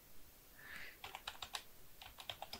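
Close, quiet clicks of typing on a computer keyboard come in an uneven run of separate keystrokes after a brief soft rustle, with no speech.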